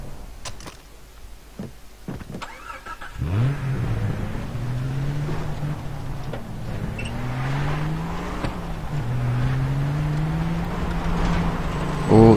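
Car driving in the video game Far Cry 3: after a few sharp clicks, an engine starts and revs up and down repeatedly through rising gear-like sweeps, steady and moderately loud, with no talking.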